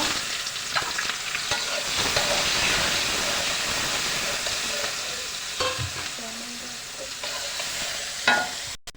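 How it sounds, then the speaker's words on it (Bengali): Chopped onion hitting hot oil already used for frying potatoes, with two bay leaves, setting off a loud, steady close sizzle and hiss, with occasional stirring scrapes and a sharp clatter near the end. "আলু ভাজে রাখা তেলে 2টা তেজপাতা দিয়ে দিব। এবার 1 বাটি কুচিয়ে রাখা পেঁয়াজ দিয়ে দিব।"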